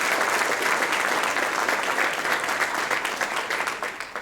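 A banquet crowd applauds a junior dragster champion at an NHRA Division 7 Jr. Drags event, with dense, sustained clapping close by and no pause.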